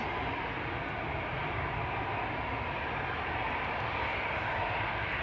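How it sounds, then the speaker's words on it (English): A Cathay Pacific Cargo Airbus A350-1000 approaches at Amsterdam Schiphol Airport, a steady broad jet roar at moderate distance that holds without break. "the Cathay Pacific Cargo A350 1000 in the meantime is coming this way"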